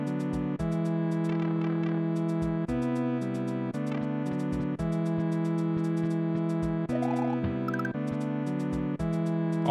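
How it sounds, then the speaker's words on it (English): Bronze bird emote in the video game YUMP 2, a bright electronic tonal jingle with repeated synth notes, steady rhythmic beats and little chirping flourishes, playing loud and alone. "Bronze bird emote."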